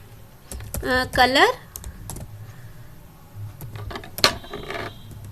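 Typing on a computer keyboard during a coding lesson, sparse close clicks and keystrokes under a voice talking in Hindi, with a sharper click near the end.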